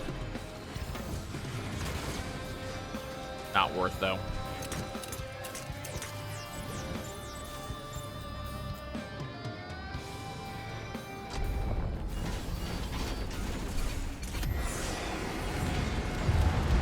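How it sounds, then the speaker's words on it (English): A 3D printer in the video game Risk of Rain 2 clanks and ratchets through a run of mechanical clicks and clinks over steady game sound, with a brief spoken remark. "put the crowbar into the 3D printer"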